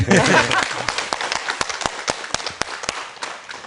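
Scattered claps from a studio audience on a Gwangju KBS talk show, a brief burst of clapping fading into separate sharp individual claps spaced out over a few seconds, with a voice briefly at the start.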